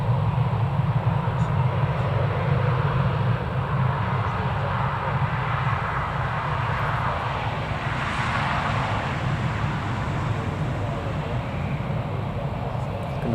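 At Newcastle Airport, an aircraft pushes back on a winter day, producing a steady, broad, loud engine and ground-equipment roar that holds level throughout the recording, with no voices over it.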